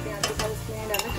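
Onions and garlic fry in a pan with a steady low sizzle, broken by a few brief louder scraping stirs.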